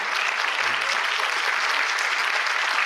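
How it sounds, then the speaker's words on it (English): Steady audience applause fills a talk on addiction, dense and even throughout with no voices over it. "I just hope we can all give her a hand of applause and embrace her."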